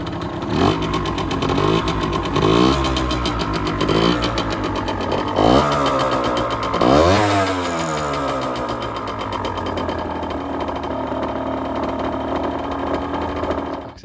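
A Suzuki TSX 80 motorcycle cranks over in several loud, rising bursts before catching, then settles into a steady, buzzing idle up close.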